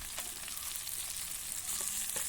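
Karimeen, pearl spot fish, fries in a pan with a steady close hiss and sizzle, interrupted by a few faint crackles and pops, no talking.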